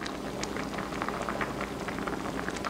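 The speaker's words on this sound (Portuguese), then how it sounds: "ela está começando a ferver" Red berry sauce simmering in a pan with lemon juice added, a steady dense bubbling and popping that runs evenly throughout with no voices.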